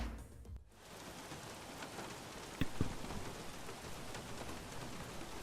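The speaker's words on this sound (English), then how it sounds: "Oh yeah, listen to that rain. Boy is it coming down." Heavy rain over the race track in the game F1 2016, a steady hiss of falling water with a couple of brief sharper knocks partway through, fairly quiet and with no talking.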